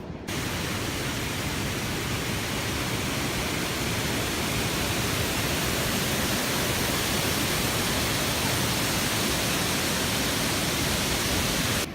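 Water rushes over Milburnie Dam on the Neuse River in a dense, loud, continuous roar. The broadband wash holds steady throughout, with no voices or other sounds breaking through.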